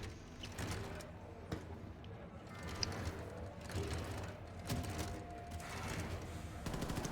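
Gunfire in Wolfenstein II on the Mein Leben difficulty: quiet, scattered bursts and single shots spread irregularly across several seconds.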